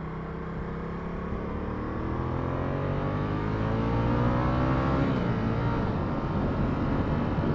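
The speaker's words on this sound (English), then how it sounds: "the noise of the V-twin, the sound that it makes is just so beefy" A deep, throaty Ducati V-twin motorcycle engine revs steadily and loudly close by, its pitch climbing and swelling toward the end.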